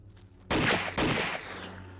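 Gunfire in a war film: two loud, close shots about half a second apart, each with a booming echo that fades away.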